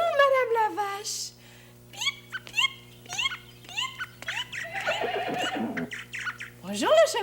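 A horse whinnies on a farm in a 1979 children's show, a falling neigh opening the sequence followed by squawky calls and busy barnyard sounds over a constant low hum, with a voice speaking.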